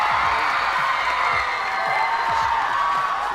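A live studio audience erupts in loud, sustained cheering and whooping as Ariana Grande walks in, a dense wall of crowd noise with scattered shouts running unbroken throughout.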